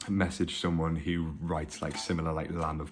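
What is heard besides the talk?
No everyday noise stands out behind the speech.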